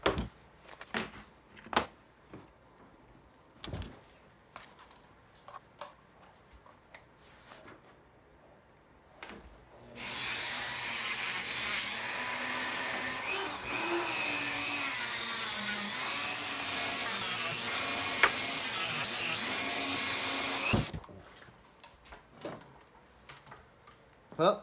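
A Dremel rotary tool with a sanding attachment shapes pieces for a wine barrel ring, whining steadily for about ten seconds in the middle, framed by quieter handling clicks and taps before and after.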